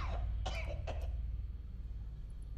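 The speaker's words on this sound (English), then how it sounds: "who doesn't cough up a little blood on the floor when they're feeling sick?" A sick man in Resident Evil: Welcome To Raccoon City coughs up blood in the jail, giving three or four harsh, close, throaty coughs in a quick cluster before fading into low room hum.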